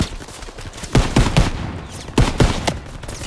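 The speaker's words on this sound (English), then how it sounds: "Taking fire! This is not going well." Gunfire in the Call of Duty: WWII video game: bursts of loud shots in two clusters, the first around one second in and the second a second later, over a steady background rumble.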